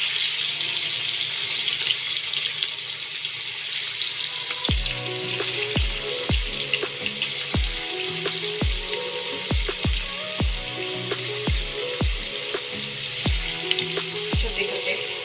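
Bread-and-potato bhaji fritters go into hot oil in a home kitchen. A steady, hissing sizzle runs throughout, joined midway by a series of soft plops and crackles as each piece drops in.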